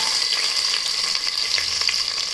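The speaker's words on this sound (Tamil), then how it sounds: "இப்போ நல்லா ஃப்ரை பண்ணிக்கலாம்" Chopped onion and pepper frying in a pan for a chickpea and dried fish curry, a steady close hiss and crackle with faint stirring scrapes running throughout, with no voices.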